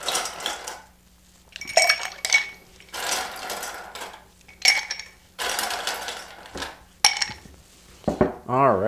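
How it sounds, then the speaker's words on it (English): Ice cubes dropped into a cocktail mixing glass while making a Hanky Panky, landing in several separate bursts of close, bright clattering and clinking with short pauses between them. "Now we're gonna add our ice."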